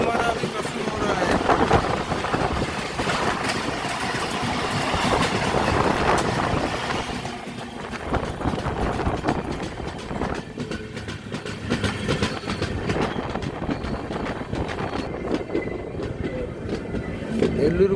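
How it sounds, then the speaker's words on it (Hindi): Goods train passing on the crossing track beside a moving passenger train on a long rail journey, a loud continuous rumble with clattering wheels that lasts throughout and slowly changes character, close by. "कोई तो एक ट्रेन आ रहा है, शायद गुड्स ट्रेन है।"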